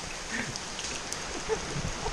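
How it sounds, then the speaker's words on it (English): Heavy rain falls steadily at the Mayan ruins of Tikal, Guatemala, a dense close wash of hiss and patter with no talk. "It's raining hard."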